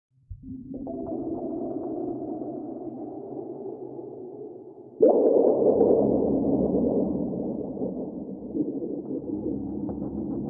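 Soundpaint 1974 Jagra synthesizer playing the Unreal Worlds patch, a sustained droning pad with layered low tones that swells louder midway as new notes enter, heard alone.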